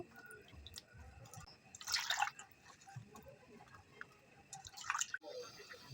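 Chopped bilimbi fruit is washed under running water, heard as faint dripping and trickling with two louder splashy bursts of water, quiet and close.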